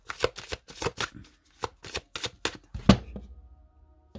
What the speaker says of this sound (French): je vais mettre 4 cartes et je vais recouvrir de 4 cartes des 77